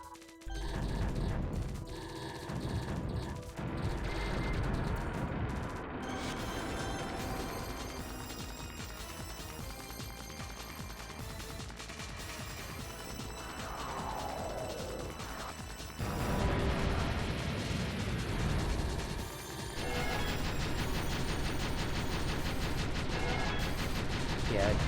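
Bomb blasts from the shooter Castle Shikigami 2 crash and rumble amid a busy wash of game effects and music, several loud bursts in a row, with players chatting over them.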